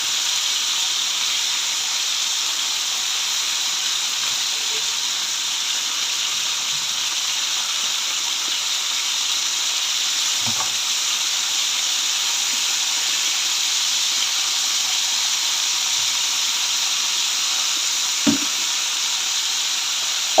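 Lemon pepper chicken frying in a pan gives a steady, loud hiss and sizzle that holds throughout, with a couple of sharp pops of spattering oil standing out near the end.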